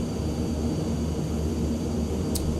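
Steady, droning engine roar of a Beechcraft King Air turboprop in a flight simulator, continuous and even at moderate loudness, with no talking over it.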